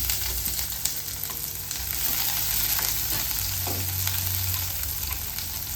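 Dried red chilies and chopped small shallots sizzle and fry steadily in hot oil in a pan, with occasional stirring scrapes, a continuous close frying hiss with no talk.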